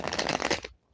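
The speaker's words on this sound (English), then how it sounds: "make sure I'm actually shuffling them around" Tarot cards shuffled by hand in a quick, dense papery riffle that runs steadily for most of a second and then stops abruptly, close and fairly loud with no talking.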